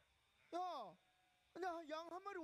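A human voice imitates a ewe's bleat: two wavering, nasal 'baa' cries, the first short and falling, the second longer and quavering, separated by a pause.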